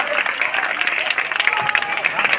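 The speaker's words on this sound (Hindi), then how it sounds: "जोरदार तालियों से स्वागत कीजिए।" Applause from a crowd welcoming a former village headman honoured with a ceremonial cloth, with steady dense clapping at moderate volume that fills the whole moment.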